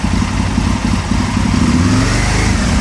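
An Aprilia motorcycle engine held at steady revs after warming up, a loud close continuous drone with a rough clattering edge and a slight rise in pitch.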